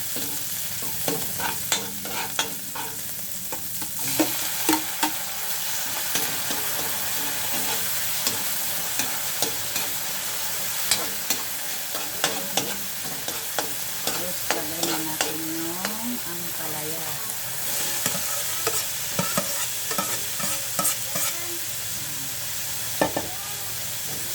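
Bitter gourd with egg stir-frying in a pan, loud continuous sizzling with frequent rhythmic scraping and clacking of a spatula against the pan, alone without voices.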